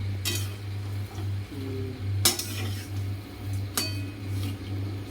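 Spoon clinking and scraping in a bowl while stirring muesli with almonds and cranberries, a few sharp clinks over a steady low hum from a kitchen appliance, close and moderately loud.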